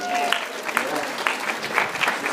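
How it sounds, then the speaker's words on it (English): A classroom applauds a student: a short burst of steady, moderately loud clapping from a small group, with a few voices mixed in. "Let's give Carrie a round of applause"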